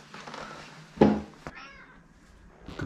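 A house cat meows once, fairly close and clear, in a room where a bike trainer belt is being changed, with faint background noise around it.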